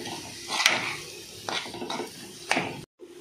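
A spoon scrapes and clinks against a pan while coriander and cumin powder are stirred into a potato curry, giving a few short metallic knocks and scraping strokes over a faint sizzle.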